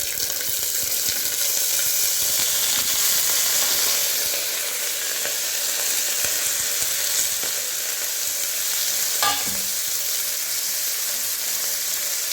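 Hing, val beans, green peas and pigeon peas sizzle in hot oil for a winter brinjal and bean vegetable dish, a steady, close, bright hiss that runs unbroken, with no one talking.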